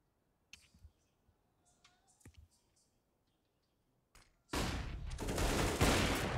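Gunfire in a Counter-Strike pro match on Dust 2: scattered faint clicks and taps first, then a loud, dense burst of shots fills the final two seconds.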